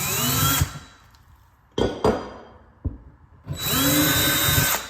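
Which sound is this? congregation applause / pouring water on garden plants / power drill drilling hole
power drill drilling hole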